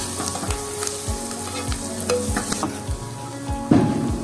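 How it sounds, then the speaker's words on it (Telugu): Curry leaves fry in hot oil in a pan for egg mutton soup, with a steady sizzle broken by a regular run of scraping ladle strokes and a louder splash of sizzle near the end. "దాన్ని పక్కన పెట్టుకొని కరివేపాకు వేసుకున్నాం. కలుపుకోండి."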